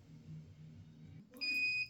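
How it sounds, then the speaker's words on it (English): A PNW Cascadia Pro heat press gives a single clear electronic beep lasting about half a second, following quiet low murmuring and room noise. "my PNW Cascadia Pro Press will count down from 3, 2, 1, and then beep"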